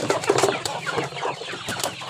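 Hungry backyard chickens cluck and squawk excitedly at close range during an evening feeding, a busy overlapping flock chatter with quick bursts and a little wing movement, no talk over it.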